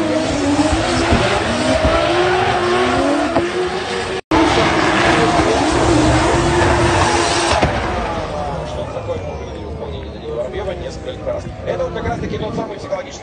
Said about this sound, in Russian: Начинают движение автомобилей параллельно.